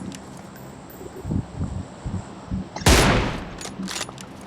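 A burst of P90 gunfire in the mobile shooter BGMI erupts loudly and close after quieter low thumps, then fades into a rushing decay.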